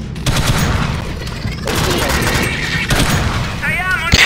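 Rapid gunfire from the Alien Swarm video game rattles in loud, sustained bursts split by brief pauses, with a voice rising over the shooting near the end.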